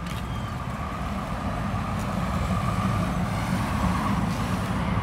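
A 1998 Igor Tour coach bus, fleet number 2200, sits with its engine running, giving a steady low diesel rumble with a faint hiss above it, close and unbroken for several seconds.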